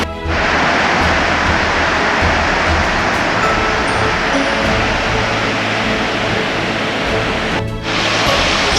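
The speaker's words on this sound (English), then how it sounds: "Looks like this is Forney Creek again." Forney Creek in the Great Smoky Mountains rushes at a trail crossing with a loud, steady, close wash of flowing water that never lets up.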